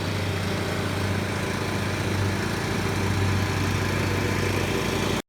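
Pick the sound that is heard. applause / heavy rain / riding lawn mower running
riding lawn mower running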